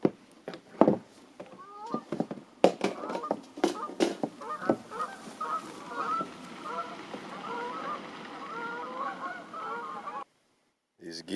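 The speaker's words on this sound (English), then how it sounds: "These geese are terrible neighbors." A flock of geese honking near a canoe campsite in the North Maine Woods, a busy overlapping chorus of nasal honks and cackles with a few sharp louder calls early, continuing steadily before cutting off near the end.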